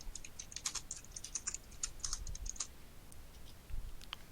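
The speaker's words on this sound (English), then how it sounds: "Done typing?" Someone types on a computer keyboard, quick irregular clicking bursts that are fairly close but quiet over a low background rumble, with no talking.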